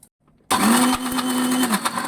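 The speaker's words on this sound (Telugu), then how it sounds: "కొంచెం సాల్ట్ అండ్ కొత్తిమీర, వాటర్ వేసి గ్రైండ్ చేసుకుందాం" A mixer grinder jar whirs into loud, steady grinding of roasted dal with salt, coriander and water, starting abruptly after near-silence and running on with a high motor whine.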